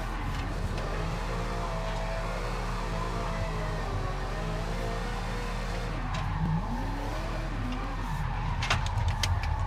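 Car engine in the BeamNG driving game revving during a downshift, a steady loud drone with rising and falling pitch sweeps, no talking over it.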